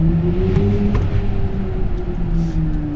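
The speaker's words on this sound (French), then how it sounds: "Cette bande son qui a été développée spécifiquement pour le iX" A synthetic sport-mode drive sound composed by Hans Zimmer for the BMW iX xDrive 50 electric SUV: a steady, loud, layered tonal drone with sustained low hum and a gently gliding upper tone, continuous over three seconds with no talk.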